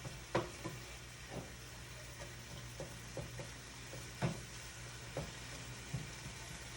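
A steak sizzling in a hot pan: a soft, steady frying hiss with scattered crackles and pops, faint and without talk.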